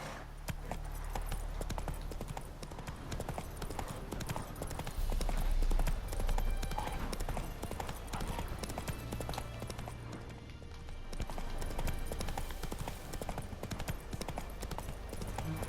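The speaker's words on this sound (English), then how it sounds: "Run, Roach." A horse's hooves galloping in The Witcher 3 video game, with a fast, steady clip-clop rhythm running throughout over a constant background of game ambience.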